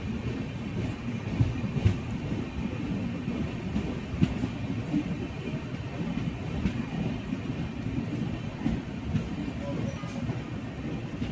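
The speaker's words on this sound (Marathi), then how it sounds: "पेनला येऊन गाडी थांबले आणि क्रॉसिंग लागले इथे गाडीला." A Konkan Railway passenger train pulling into Pen station during light rain gives a steady, dense rumble with faint clicks and knocks, heard from inside the carriage, with no talk.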